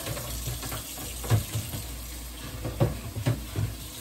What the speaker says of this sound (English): Just rinsing my bowls out, you guys. Yeah, washing them up.